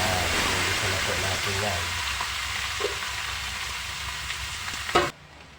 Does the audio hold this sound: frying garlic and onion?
yes